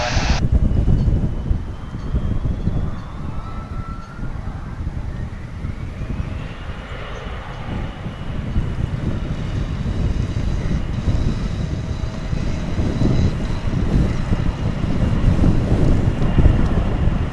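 Heavy wind buffets an outdoor microphone at DFW Airport, a dense low rumble that runs the whole time, with a faint distant aircraft engine drone beneath it and no voices.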